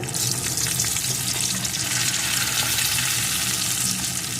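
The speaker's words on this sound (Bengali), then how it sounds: "এখন আমি এই ডালের বড়িগুলোকে দিয়ে একটু ভেজে নেব" Lentil dumplings (bori) frying in hot oil in a pan after fish, giving a steady, loud, close sizzle that runs without a break and with no talking.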